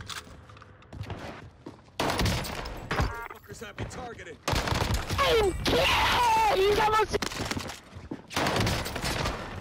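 Gunfire in Call of Duty Warzone on Rebirth Island: loud bursts of automatic fire and impacts in several clustered bursts separated by brief lulls, with a player talking over parts of it.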